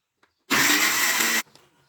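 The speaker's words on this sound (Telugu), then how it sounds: "ఇప్పుడు ఒకసారి మిక్సీ పట్టుకుందాం" A kitchen mixer grinder whirs loudly, blending tomato and onion for a Telugu fish curry. It runs in one steady, roaring burst of about a second, then stops abruptly, with nobody talking.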